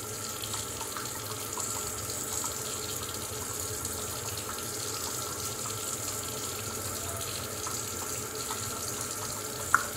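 A kitchen tap runs in a steady, even stream for about ten seconds while water is added to shaving soap lather, ending with a brief small knock near the close.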